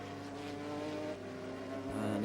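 The number 51 Panoz race car at an American Le Mans Series round at Mid-Ohio drives at speed, a steady high-pitched engine whine with a gear shift near the end.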